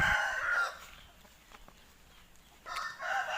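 Roosters crow loudly nearby at a gamecock farm, one long call at the start and another near the end, with quiet outdoor ambience between.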